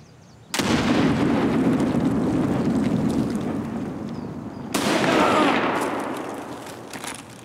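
A grenade blast in the shooter Escape From Tarkov: a sudden loud broadband explosion that rumbles and slowly decays, followed a few seconds later by a second heavy burst trailing off.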